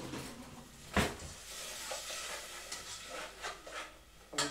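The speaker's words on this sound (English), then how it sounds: "Make sure that this is stirring away. Okay, so we want the garlic and the onions to soften." Onions and garlic fry in a pan for sweet potato curry, a low steady sizzle broken by a couple of sharp spoon knocks and scraping stirs, heard close and fairly quiet.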